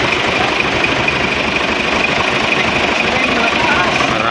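Isuzu 6WG1 diesel engine idling after cylinder head repair for an overheating problem, a loud, close, constant rattling drone with an even rhythm.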